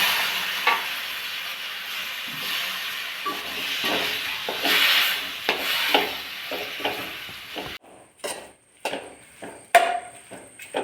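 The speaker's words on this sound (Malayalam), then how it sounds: "ഇതിലോട്ട് നാരങ്ങ തട്ടിയിടും. ചാറിനകത്തിരിക്കുന്നതും കൂടെ തട്ടിയിടും." Lemon pieces are tipped into hot masala in a pan and stirred for Kerala-style lemon pickle, a steady sizzle broken by clattering scrapes and taps of the spoon that grow sharper and more separate toward the end.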